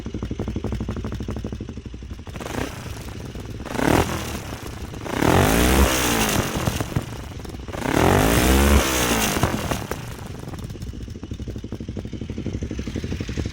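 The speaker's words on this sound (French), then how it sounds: "le bruit du pot." A Kawasaki motorcycle engine idles with a popping exhaust, then revs up hard twice in long roaring bursts before settling back to a rough idle.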